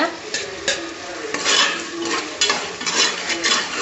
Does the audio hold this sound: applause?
no